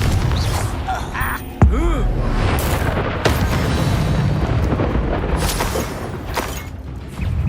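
A Confringo blasting spell goes off in Hogwarts Legacy, a sudden loud boom with a short whooshing, ringing tail, followed by rumbling in-game battle noise and distant effects.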